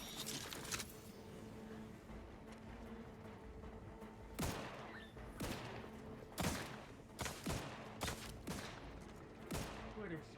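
Gunfire in The Outer Worlds 2 game, irregular sharp shots and short bursts cracking over a busy, dense combat din, some close and loud, spread across the whole stretch.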